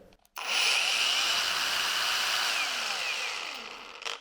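A cordless angle grinder spins up sharply and runs as a steady high whine with a slight pitch shift through its speed settings, then winds down, close and loud with no talking.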